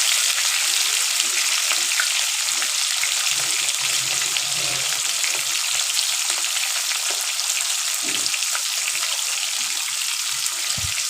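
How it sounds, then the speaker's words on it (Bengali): Katla fish pieces frying in hot oil give a continuous, even, loud sizzle close at hand, with a few soft knocks and bubbling pops underneath. "এইভাবে সব মাছগুলো ভেজে নেব।"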